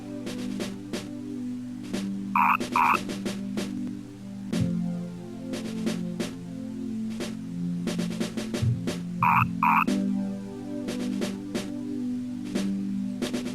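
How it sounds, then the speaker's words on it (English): A frog croaks in the retro RPG Mother as two short, paired electronic blips, heard twice, standing out above a looping chiptune soundtrack. "Frog! The right frog!"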